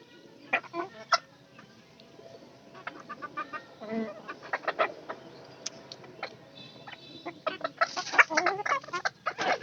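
Chickens cluck and call repeatedly at close range on a farm where two unfamiliar birds have wandered in, with irregular bursts of clucking overlapping one another against a steady, low background.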